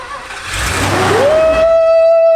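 A rare JDM car's engine, with the factory fuel system bypassed, cranks and catches, rising into a loud close rev that settles into a steady whining idle.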